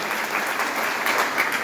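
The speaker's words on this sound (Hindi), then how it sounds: "कृपया जोरदार तालियां" Brief burst of dense audience applause at a farmers' conference held in a temple setting, steady and moderately loud throughout.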